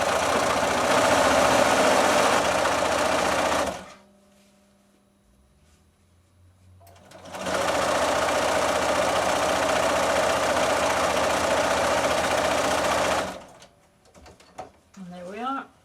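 A sewing machine runs in two sustained bursts while stitching piping cord onto cushion fabric, a steady loud mechanical whir with a pause between. Brief talk follows at the end.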